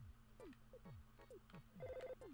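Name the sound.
telephone ringing, from video game Earthbound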